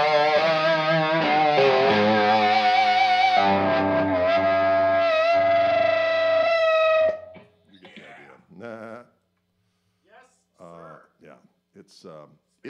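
Electric guitar run through a Gristleking distortion pedal with slap echo and no reverb, feeding a Soldano single 12 extension cabinet: loud, sustained distorted chords and notes for about seven seconds, then short broken phrases trailing into near silence.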